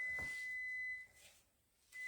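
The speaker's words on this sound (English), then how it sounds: "let me go turn that timer off." A timer emits a steady high-pitched electronic beep for about a second, stops, then starts again briefly near the end, close and clear in a quiet room while epoxy resin is poured over a large dresser top.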